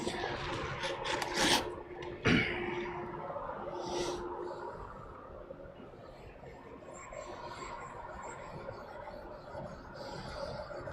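An O1 tool steel blade is rubbed across a 1,000-grit waterstone, producing soft, close scraping strokes in an uneven rhythm with a couple of sharper scrapes early on, fairly quiet throughout.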